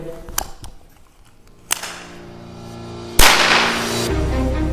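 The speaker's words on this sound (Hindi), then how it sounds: "यह भी एक एयर गन ही है जो आज भी चलाई जा सकती है" A children's toy air gun is fired, giving a few sharp snapping cracks spread over several seconds, with a louder burst near the end, over a steady background hum.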